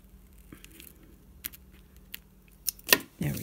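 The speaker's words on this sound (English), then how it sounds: "You can just cut off a piece of it." Scissors snip through a piece of scratch-off sheet in a handful of short, crisp cuts, close and fairly quiet, with rustling between the snips.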